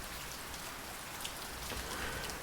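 Steady rain falls in an audio drama scene, a dense, even hiss of drops with no speech and no distinct thunder.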